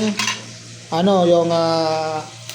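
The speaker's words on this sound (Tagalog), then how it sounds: "Ugay-ugayin mo yung sibuyas, luya" Onion and ginger being stirred and sautéed in a pan: a metal utensil clinks and scrapes against the pan, then a sustained sizzling, ringing scrape lasts over a second, all fairly close and clear.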